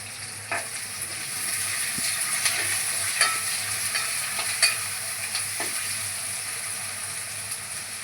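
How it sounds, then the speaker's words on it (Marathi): Onion, garlic and curry leaves fry in a pan with a steady close sizzle, broken by occasional light scrapes and taps of a stirring spoon. "आपण त्याच्याबरोबरच कांदा पण भाजूया, की दोन्ही पण भाजून येईल."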